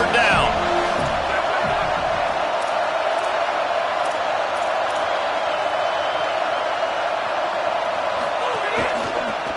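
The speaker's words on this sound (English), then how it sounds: "Decibels rising as the crowd gets behind this defense on third down." A roaring stadium crowd fills a football video game during a tense third-down play, a dense, loud, unbroken wall of crowd noise with a few faint thumps beneath it.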